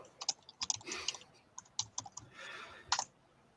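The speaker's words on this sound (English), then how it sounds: "I see you typing." Close, crisp keystrokes on a computer keyboard come in irregular bursts of clicks with short pauses between them, while faint murmuring sits underneath.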